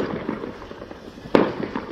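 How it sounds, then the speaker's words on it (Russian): A New Year firework bangs sharply once over a background of distant popping and crackling from more fireworks. "Очень непривычно слышать этот фейерверк"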